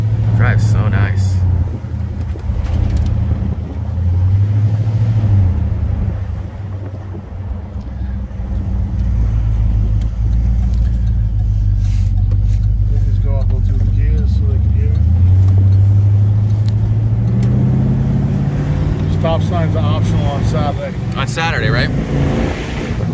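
A 1972 Pontiac LeMans Sport convertible drives along, its engine a steady low rumble throughout with a rise in revs partway, while people talk over it.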